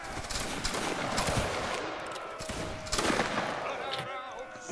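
Musket volley in a Napoleonic-era Waterloo battle video game, a rolling crackle of many shots fired together, loud and dense, followed by scattered reports and chatter of players on voice chat.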